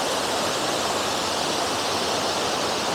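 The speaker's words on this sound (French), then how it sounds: "Vous voyez tout là-haut, c'est le jet de la cascade" Steady roar of a waterfall in the Jura, broadband falling water rushing without pause, close and even throughout.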